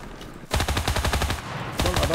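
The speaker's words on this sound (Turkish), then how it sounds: "Adamlar lav silahıyla sıkıyorlar." Rapid automatic gunfire in the Enlisted video game, a dense stream of loud bursts with a brief pause before firing resumes, close and continuous.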